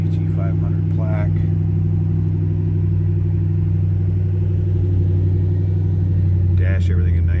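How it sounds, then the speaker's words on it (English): A 2008 Ford Mustang Shelby GT500 exhaust holds a steady, deep, throbbing idle rumble for the whole stretch, with brief faint voices near the start and end. "exhaust sounds great"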